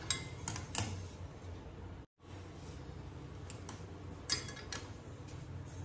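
Semolina roasting in a pan for suji halwa, stirred steadily with a spoon: faint light scraping and occasional metallic clinks against the pan, quiet and close, with a brief silent break.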